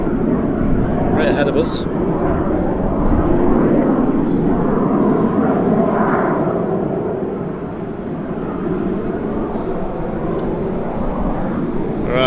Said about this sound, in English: Qatar has started its taxi